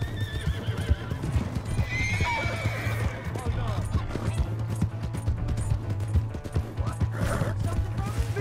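A horse's hooves clip-clop steadily with a whinny partway through in the video game Red Dead Redemption 2, heard alongside a low steady hum and bits of talking.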